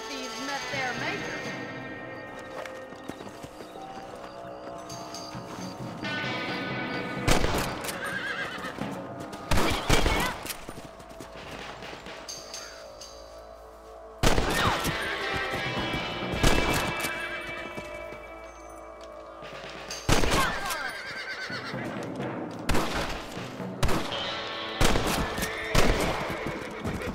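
Rifle shots crack out one at a time as rabbits are picked off in the Western video game Red Dead Redemption, several sharp loud reports spaced a few seconds apart over horse whinnies, hoofbeats and game music, with brief voices.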